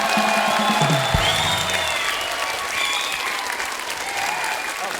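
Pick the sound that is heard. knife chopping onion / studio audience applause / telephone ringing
studio audience applause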